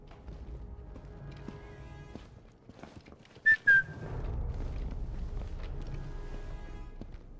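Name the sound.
player character whistling in Sniper Elite 5 video game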